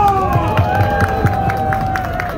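Holiday boat crowd in Cancun gives the captain a burst of applause and cheering, clapping and whoops mixed with babble of voices over a steady engine hum.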